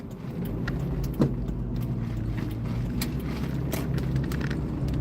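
Car driving along at a steady pace, a continuous low engine and road rumble with a brief bump partway through, heard from inside the vehicle with no talking.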